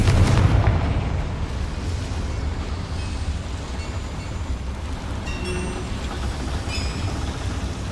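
The Confringo fire spell blasts in Hogwarts Legacy on PS5 inside a mine, a heavy booming explosion at the start that fades into a long rumbling, crackling tail with faint chimes.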